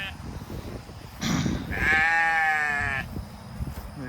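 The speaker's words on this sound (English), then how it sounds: "here's the sheep." A sheep on a fenced farm bleats once, loud and close, a drawn-out wavering call over outdoor noise, with a voice speaking around it.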